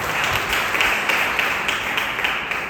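Audience applause at a youth and kids church fellowship gathering, a steady dense wash of clapping that holds evenly from start to end with no voices on top.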